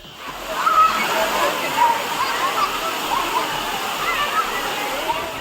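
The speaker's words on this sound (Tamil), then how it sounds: "திருமூர்த்திமலை பஞ்சலிங்க அருவியில் சுற்றுலா பயணிகள் பலர் நீராடி மகிழ்ந்தனர்" Water crashes steadily down Panchalinga waterfall in the Thirumoorthy hills, a dense, continuous roar with splashing from tourists bathing beneath it and faint voices mixed into the spray.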